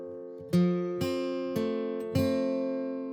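Fingerpicked acoustic guitar using a pinch and roll across three adjoining strings rings out in four separate attacks, each chord sustaining and decaying before the next, played alone at a moderate volume.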